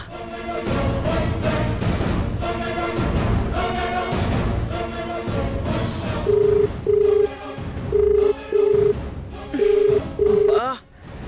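A telephone rings unanswered in a tense domestic scene, its repeated paired electronic tones sounding in a regular pulse over a dramatic background score, loud and close.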